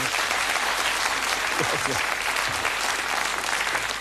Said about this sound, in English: That sometimes gets a round of applause, you know, when they get difficult answers